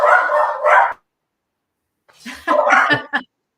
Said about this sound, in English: Your dogs arguing over there in the background.